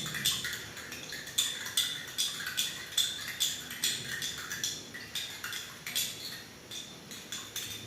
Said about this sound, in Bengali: চিনিটা দেওয়ার পর আমি চামচ দিয়ে নাড়িয়ে নাড়িয়ে নাড়িয়ে ওটা দ্রবীভূত করছি।